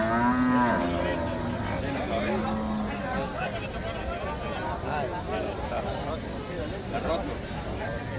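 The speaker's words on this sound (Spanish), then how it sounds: "De esta vaca que estamos en este momento aquí." Cattle mooing at a livestock market during milking, with several lowing calls near and loud over a dense crowd hubbub and voices talking throughout.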